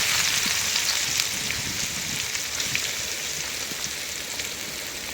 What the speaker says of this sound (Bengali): এখন দিয়ে দেবো পেঁয়াজ